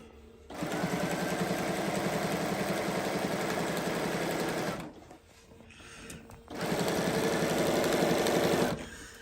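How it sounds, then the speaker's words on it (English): A sewing machine slowly stitches a mermaid tail in two bursts of steady motor hum and needle chatter, separated by a short pause with faint handling noise, close and fairly loud. "I'm just going to stitch it kind of slow all the way around"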